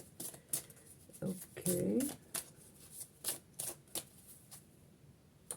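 A deck of playing cards is shuffled in a series of quick crisp riffles and bridge snaps, close and fairly loud, with a brief spoken word in between.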